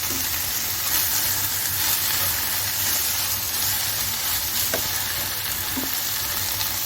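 White keema with kasuri methi sizzles steadily in hot oil in a karahi, a dense continuous frying hiss with occasional soft stirring scrapes, close and unbroken.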